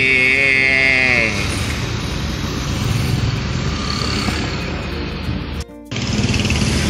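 Road traffic with a steady rumble of cars and motorcycles passing nearby, loud and continuous, with a horn-like tone at the start and a brief dropout near the end.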